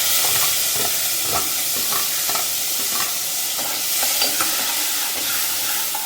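Onion, curry leaves and coriander fry with fennel seeds in a hot pan for a kola urundai kuzhambu. A loud, dense sizzle hisses continuously, broken by repeated stirring scrapes.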